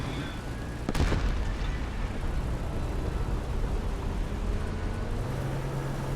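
A single tank cannon shot in the video game War Thunder, one distant booming report over a constant low rumble of engine and battlefield ambience.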